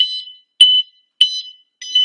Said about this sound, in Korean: 이거는 호각용 호각입니다.